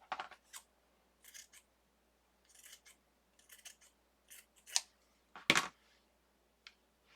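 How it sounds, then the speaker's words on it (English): Scissors snip through fabric and lace in short, crisp bursts, close and fairly quiet. The cuts come in an irregular run of about a dozen snips with silent gaps between them. "let's cut this in half."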